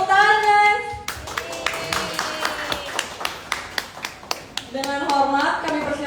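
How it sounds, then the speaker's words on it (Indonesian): Scattered, uneven clapping from a small audience at a film event, distinct individual claps rather than a full ovation, between stretches of speech at the start and end. "Tepuk tangan guys."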